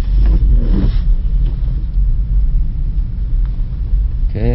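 A BMW 318i rolls slowly along a snowy road, its engine a steady low rumble with tire and cabin noise throughout, close and continuous, and no talking.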